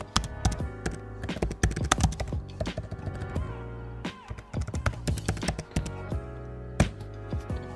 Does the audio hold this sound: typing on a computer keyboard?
yes